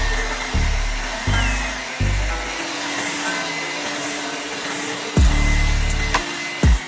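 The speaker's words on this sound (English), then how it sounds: "hover the hairdryer over the sticker with some hot heat" A hair dryer blasts hot air onto a sticker on a sneaker box, running loud and close in a steady whoosh broken by several short stops and restarts, with no talk.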